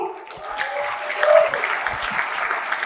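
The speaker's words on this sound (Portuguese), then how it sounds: "Palmas para o Luizinho!" A studio audience at a live comedy show applauds as a performer is welcomed onto the stage, sustained clapping mixed with cheering voices and a brief shout in the middle.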